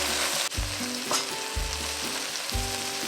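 Garlic sizzling and frying in a pan of parsley herb butter, a steady loud crackle with repeated low thumps of stirring, no talking.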